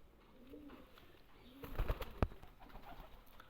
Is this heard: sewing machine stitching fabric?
no